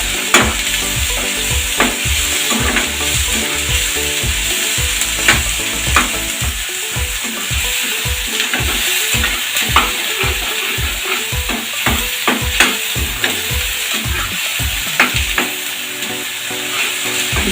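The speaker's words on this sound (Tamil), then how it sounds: "இப்போ வெங்காயம் நல்லா வதங்கிடுச்சு." Onions sauté in a pan while being stirred for a South Indian fish curry, a constant close sizzle broken by repeated scraping and knocking strokes of the spoon, with no voices.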